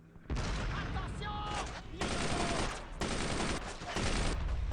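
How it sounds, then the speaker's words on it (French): Machine gun fire in the Brothers in Arms World War II video game, loud sustained bursts of rapid shots in several close volleys with brief gaps between them. "Et là vous voyez que quand on a une mitrailleuse, la vie est plus facile."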